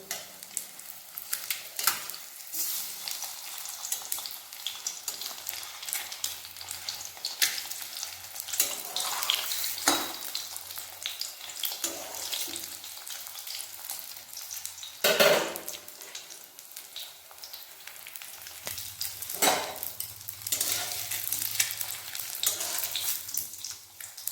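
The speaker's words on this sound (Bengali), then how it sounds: "সব ডিমগুলো ময়দার মধ্যে কোট করে নিয়েছি এরপর একে একে এরকমভাবে ভেজে নেবো" Flour-coated eggs frying one by one in hot oil, a steady sizzle with occasional crackles and stirring clatter, moderately loud and close, no talk.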